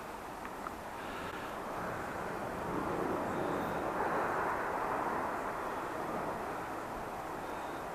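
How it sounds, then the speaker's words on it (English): A steady, broad roar of aircraft passing overhead, including Red Arrows jets, swelling slightly in the middle and then holding at a distant, continuous level. "You can hear planes."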